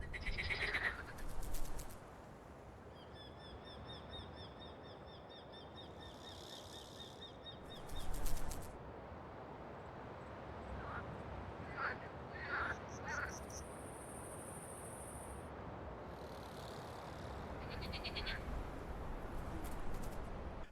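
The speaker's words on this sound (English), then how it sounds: "we got like all the different sounds of birds, of insects buzzing around" Game ambience from the hunting game Ultimate Hunting: scattered bird calls and chirps, some louder bursts and some faint, over a soft, constant hiss.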